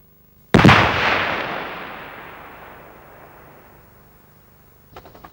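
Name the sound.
Carl-Gustav recoilless rifle fired from a weapon mount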